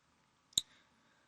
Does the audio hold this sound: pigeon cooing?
no